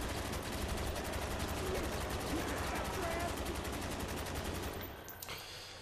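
Ray gun fire in a zombies-style shooter game comes as a dense, rapid stream of loud repeated shots running almost without a break, then thinning toward the end, with a voice speaking over it.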